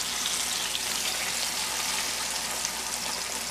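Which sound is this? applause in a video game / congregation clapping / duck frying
duck frying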